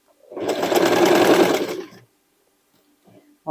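Sewing machine stitching sweatshirt fabric, a close, fast, even whirring run lasting under two seconds and then stopping, followed by near silence and a couple of faint small sounds.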